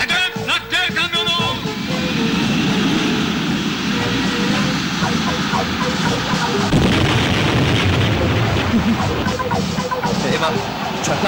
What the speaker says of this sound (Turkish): Avcı uçakları alçak uçuş!